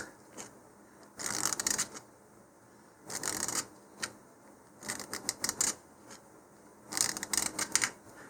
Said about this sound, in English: I'm just going to take a little bit of I think this is 100 grit sandpaper here, and just use that to sand a little bit off the edge here.